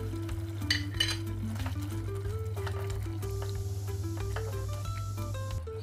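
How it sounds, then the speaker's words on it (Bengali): Chicken for pepper lemon chicken is covered and stirred in a pan, with faint scraping and light clinks over a steady low hum and quiet background music. "এটাকে এইভাবে ঢাকবো আর নেড়ে চেড়ে রেখে দেব।"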